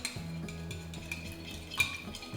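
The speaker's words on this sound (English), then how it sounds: "Give this mixture a good mix." A jojoba oil sunscreen mixture being stirred in a bowl, giving soft, steady scraping and light clinks of a utensil against the container, close and alone with no voices.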